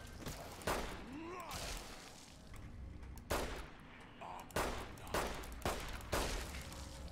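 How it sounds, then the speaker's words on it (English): Police pistol gunfire in Fallout New Vegas, a string of sharp, booming shots spaced a second or so apart, loud and close over a dense game soundscape. "God, the police pistol sucks."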